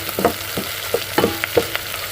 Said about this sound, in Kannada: ನೋಡಿ ಈ ಕಡೆ ಒಗ್ಗರಣೆ ಆಗ್ತಾ ಇದೆ